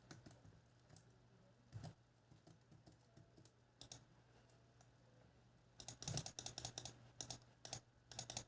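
Mouse clicks during a video game, sparse and quiet at first, then a rapid dense flurry of sharp clicks toward the end over a faint low hum.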